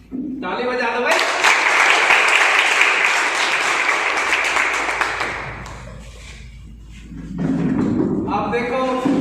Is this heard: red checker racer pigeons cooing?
no